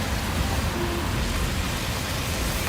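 Rain comes down on a foggy Toronto street near the financial district, a constant, even hiss of falling water that stays level from start to finish with no voices.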